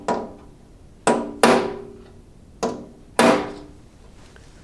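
Five sharp metallic hammer blows on an old tool box, driving the pins out of its hinges, each strike ringing and decaying, irregularly spaced, close and clear with no talk.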